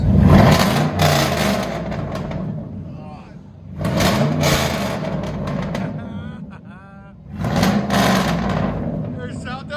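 A 2004 Chevy Silverado with a 5.3L V8 and true dual straight-pipe exhaust revs hard three times in loud, close bursts spaced a few seconds apart, each surge swelling and then falling back, with voices around it.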